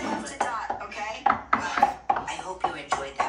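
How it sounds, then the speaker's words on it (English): Knife chopping mushrooms on a board during beef Wellington prep, a series of sharp close knocks at an irregular pace, with people talking over the chopping. "The mushroom, just chopping the mushrooms alone."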